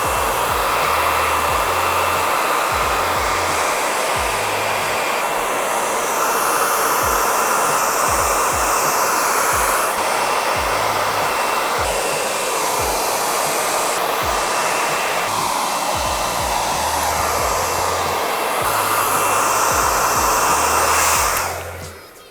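A loud hair dryer blows steadily and close up while a textured wavy bob is dried, its roar shifting slightly as the airflow moves through the hair, with no one speaking.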